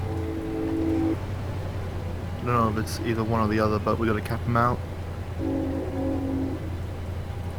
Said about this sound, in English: I apologize for the train there in the background.